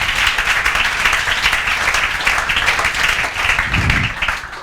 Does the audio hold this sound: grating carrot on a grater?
no